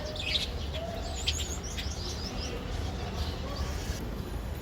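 Budgerigars chirp in quick, faint wavering warbles over a steady background hiss, the calls scattered and somewhat distant.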